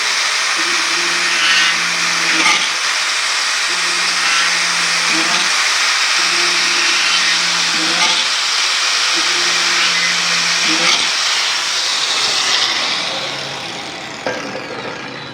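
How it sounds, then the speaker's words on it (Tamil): An angle grinder fitted with a drill adapter drills holes, its loud, steady whine rising into several repeated drilling bursts, each a couple of seconds long, then easing off near the end. "இந்த ஆங்கிள் கிரைண்டரில் இந்த அடாப்டர் போட்டு இந்த சேஃப்டி மெஷர்லாம் வச்சு உங்களுக்கு நான் இப்போ ஹோல்ஸ் போட்டு காட்டுறேன்"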